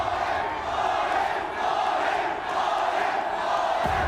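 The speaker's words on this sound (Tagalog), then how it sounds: "The crowd has chanted." A large crowd at a sports finals ceremony roars and chants in a sustained, loud wash of voices that barely dips throughout.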